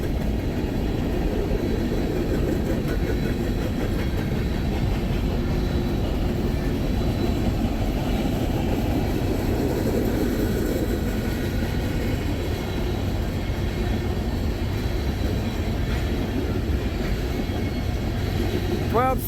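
A long freight train rolls past with a distributed power locomotive among its cars, giving a loud continuous rumble and clatter of wheels on rails, with occasional voices talking over it.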